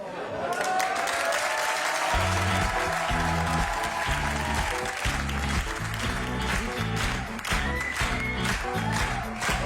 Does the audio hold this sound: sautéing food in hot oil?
no